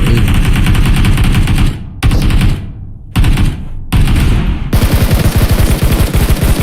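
Sustained automatic gunfire in the mobile game BGMI during an esports championship semi-final, loud and close, with several long rapid-fire bursts separated by brief pauses.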